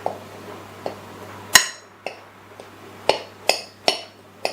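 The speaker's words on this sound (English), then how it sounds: "So I'm just chopping up my butter into small pieces." Butter being chopped into small pieces with a knife on a board while making pastry for air-fryer mince pies, heard as about eight sharp, close knife taps at an irregular rhythm over faint background hum.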